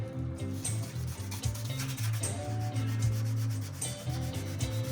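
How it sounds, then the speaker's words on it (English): Sandpaper rubs back and forth against a wooden Squier guitar neck in a steady, close scraping rhythm, with no talking. "we'll just do a little more sanding on here"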